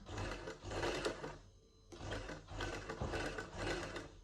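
Sewing machine stitching a lined shirt runs in two steady whirring bursts close by, with a brief pause between them.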